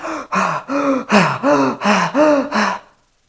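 A person demonstrates mouth breathing as after hard exercise, seven loud, close, rhythmic gasping breaths in quick succession, then silence.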